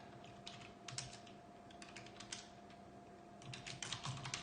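Typing on a computer keyboard sounds as quiet, irregular clusters of key clicks under a constant low hum, close by and without speech.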